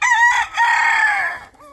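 A chicken crows inside a backyard aviary, a loud nearby drawn-out call in two strained bursts followed by a short softer note, with faint ground noise beneath and no talking.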